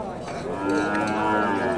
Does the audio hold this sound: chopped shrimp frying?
no